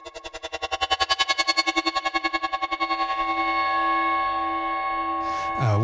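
A glitched sample processed in Ableton with reverb added: a bright, chopped harmonic tone that pulses rapidly at first, then smears into a sustained, washy reverberant drone before a brief sweeping glitch at the end.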